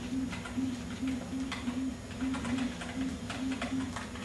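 Repeating electronic bird chirps from the NES game Zelda II: The Adventure of Link, a steady looping pattern of short tones over game music.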